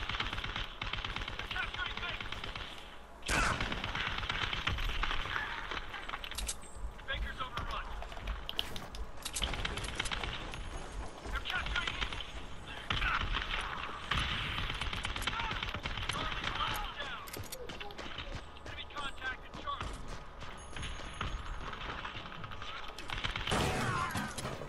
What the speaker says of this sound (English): I hear the new shotgun.